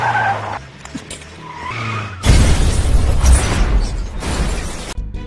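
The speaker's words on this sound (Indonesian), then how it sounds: "kendaraan itu tiba-tiba meledak." A vehicle blows up in an action film: music plays first, then tires skid and a loud blast roars, with rumbling debris that holds for a few seconds before cutting off.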